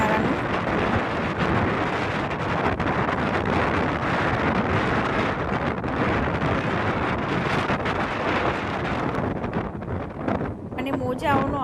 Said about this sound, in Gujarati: અને પવન પણ એટલો ખૂબ આવી રહ્યો છે